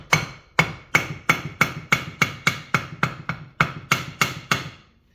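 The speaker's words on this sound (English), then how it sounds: "I've had this hammer for years." Hammer blows during the teardown of a Kawasaki FR730V engine, about fourteen sharp, evenly spaced metallic strikes at a steady pace, close and loud, with no speech.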